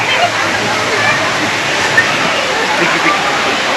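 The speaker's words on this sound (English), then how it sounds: "that's the lazy river" Fast-flowing water of a campsite lazy river, a steady broad rushing and sloshing wash close by, continuous throughout with occasional small splashes.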